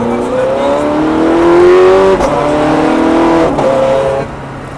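A Ferrari F430 accelerates hard on the Lédenon race circuit, its engine note climbing loud and close through a long rising pull with two brief shift breaks before easing off.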